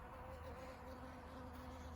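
Honeybees gather at a water source to drink, their soft, steady insect buzz continuing close by and alone with no talk, at a low, even level.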